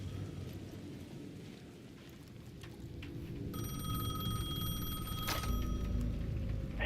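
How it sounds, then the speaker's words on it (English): A payphone rings in the game Alan Wake II, a steady repeating electronic ring that starts partway through and carries on over a low rumbling ambience of rain and wind at the edge of a plaza. "The payphone at the edge of the plaza was ringing again."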